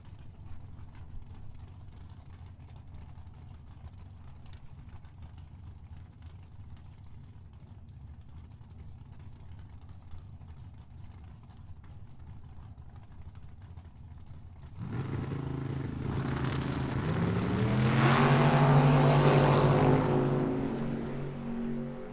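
A dragster and a second drag car race a final pair at a dragway. A low, steady engine drone runs for several seconds, then swells into a loud, close roar that peaks and begins to fade, with no talking.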